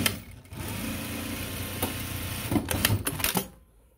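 A Juki DDL-8700-7 industrial sewing machine with a 16x2 needle and T27 thread stitches real leather. It gives a close, steady mechanical whir with rapid ticking, broken by a few sharper clicks near the end before it stops.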